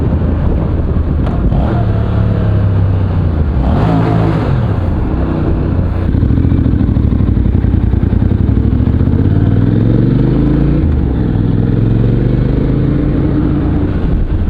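A Honda CTX700 motorcycle engine revs hard through an aftermarket exhaust, loud and close, rising and falling in several pitch sweeps over a steady heavy rumble with wind buffeting.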